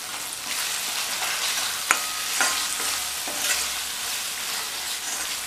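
Ginger garlic chutney frying in an oil-filled pan makes an even sizzle, with a few sharp utensil knocks and scrapes as it is stirred, and no one speaks.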